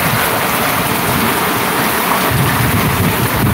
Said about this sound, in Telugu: సడన్గా దిగింది వాన.